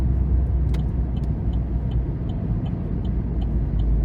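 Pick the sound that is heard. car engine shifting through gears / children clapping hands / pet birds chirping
car engine shifting through gears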